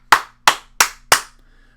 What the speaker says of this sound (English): So if I clap right now